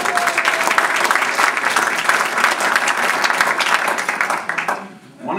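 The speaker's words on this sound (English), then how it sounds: "A round of applause for all those clubs." An audience at a club conference applauds honored clubs: dense, steady clapping from a roomful of people runs loud for about five seconds, then quickly dies away.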